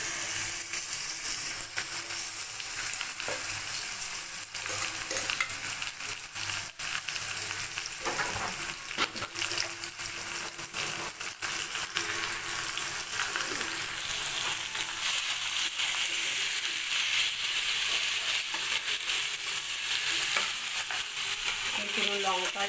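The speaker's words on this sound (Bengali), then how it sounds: "পুরো গোটা মশলাতেই রান্না করছি চিকেনটা।" Chicken frying with whole spices in a pan, a steady loud sizzle and crackle running throughout with intermittent scraping and stirring strokes of a utensil.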